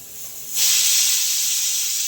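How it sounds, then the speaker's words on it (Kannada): A pressure cooker of chicken soup suddenly vents steam, a loud steady hiss starting abruptly and holding strong, close by, with no voices. "ಸಾರು ವಿಸಿಲ್ ಆಫ್ ಮಾಡ್ತಾ ಇದೆ."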